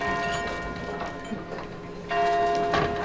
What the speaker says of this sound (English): And then the bells ring out again.